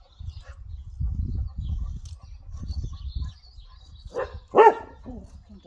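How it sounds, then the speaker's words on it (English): A few dog barks sound from nearby in a stable while a horse's mane is brushed and cut, one sharp loud bark standing out near the end over low rustling and handling noise. "Oh, dogs."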